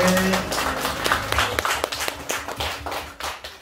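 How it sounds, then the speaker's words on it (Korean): Congregation applauding together during a New Year's Eve church service, a dense burst of clapping that holds steady then thins toward the end, with a voice heard briefly at the start. "우리 하나님께 영광의 박수를 드리겠습니다."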